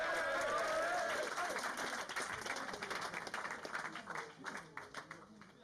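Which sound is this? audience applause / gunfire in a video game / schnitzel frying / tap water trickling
audience applause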